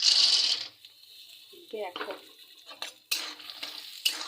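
Peanuts dropped into hot oil and stirred in a pan, giving a bright crackling sizzle at first, then intermittent scraping and clinking of the utensil against the pan, with a brief spoken word mid-way.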